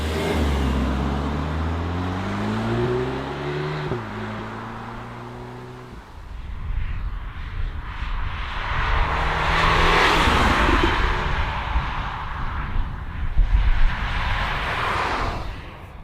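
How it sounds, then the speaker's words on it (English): Cupra Formentor SUV on winding country roads, its engine rising through gears with distinct pitch drops at shifts, then a broader roar of acceleration and road noise, loud and close. "let's take the Cupra Formentor out for a spin"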